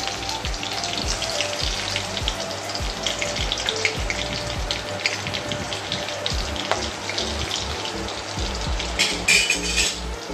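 Pumpkin greens sizzle in a hot pan after a spice tempering with bay leaves, making a loud continuous crackle and hiss with scattered pops, close up and without speech.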